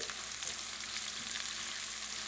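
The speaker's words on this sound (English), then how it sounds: "You get the shallots in there. And I'm going to saute them up really quick" Shallots sautéing in a pan over medium-high heat give a steady, dense sizzle, close and even with no talking.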